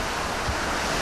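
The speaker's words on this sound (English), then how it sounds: "Tokyo takes a battering from high winds and driving rain." Typhoon battering Tokyo with high winds and driving rain, a dense, loud, unbroken roar of wind buffeting and rain noise filling the whole moment.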